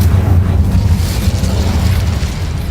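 An Incendio fire spell is cast in the Hogwarts Legacy video game, giving a loud, dense roaring burst of flame that holds steady for a few seconds, no talking.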